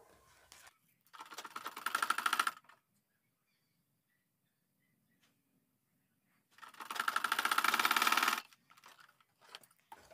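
A sewing machine stitches a kameez in two separate runs of a few seconds each, a steady, close, rapid mechanical whirr with quiet pauses between and no talking.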